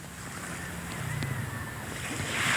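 Sea waves wash onto an empty beach under an overcast sky, a steady broadband surf rush that swells louder toward the end, with some wind buffeting the microphone.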